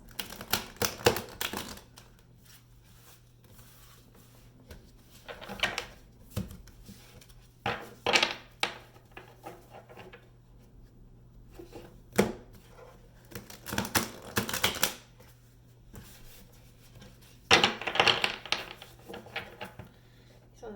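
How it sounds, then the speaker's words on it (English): An Omen oracle card deck is shuffled in repeated bursts of crisp riffling and tapping, close and fairly quiet, with pauses between shuffles and no talking. "Okay, one last shuffle, I think."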